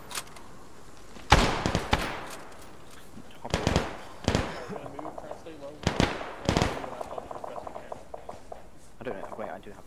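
Machine gun fire in the military video game Arma 3 comes in three sharp, loud bursts a couple of seconds apart, each a rapid cluster of cracks, with quieter battlefield noise between them.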